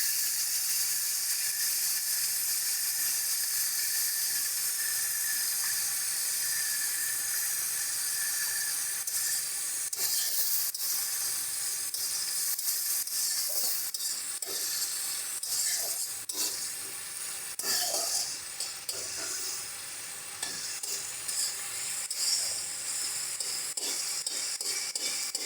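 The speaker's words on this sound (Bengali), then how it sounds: "দেখো, আমাদের চিংড়ি মাছটা হালকা ভাজা হয়ে গেছে" Shrimp frying in a pan with salt and turmeric hiss and crackle steadily and close by, with stirring scrapes and clinks breaking in now and then; no voices.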